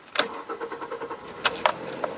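A Toyota Corolla engine cranks with a rapid, rhythmic starter whir. Sharp metallic clicks and key jangles come near the start and end, all close and fairly quiet.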